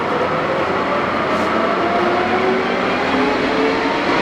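A Summit 20X80B inch-and-metric metal lathe spins at 1400 RPM, making a loud, steady, unbroken mechanical roar that holds even throughout.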